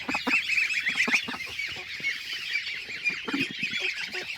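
A flock of geese honks continuously and loudly, overlapping calls crowding together with no pauses.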